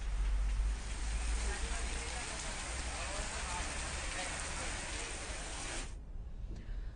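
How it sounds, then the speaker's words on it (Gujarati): Rain falls in the Viramgam area of Gujarat, an even, steady hiss of drops on surfaces that carries on for about six seconds, then drops away sharply near the end. "રાજ્યના અનેક વિસ્તારોમાં હાલ વરસાદ વરસી પણ રહ્યો છે."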